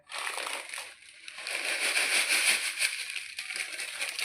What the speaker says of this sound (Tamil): இப்போ ராகி சேமியாவை தண்ணியில் சேர்த்துக்கலாங்க.